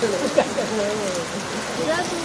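Mumbai's first rain of the season keeps up a brief, even patter and hiss while a person speaks over it.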